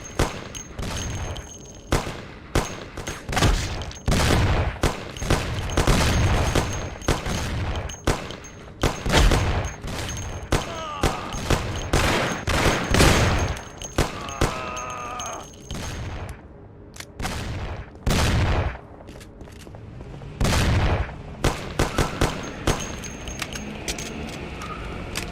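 Gunfire in the 2002 game Mafia: The City of Lost Heaven, loud repeated bursts and single shots at an uneven pace throughout a long firefight, with brief pauses and faint shouting between volleys.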